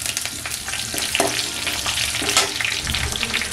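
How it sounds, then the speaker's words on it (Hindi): Bay leaves, dried red chillies and slit green chillies fry in hot oil for moth kachori, giving a dense, steady crackling sizzle close by, with bursts of spoon-stirring scrapes. "अब इसे डाल दें तेल में। और इसके साथ ही दो तेज पत्ते, दो सूखी लाल मिर्च और ये हरी मिर्च दो"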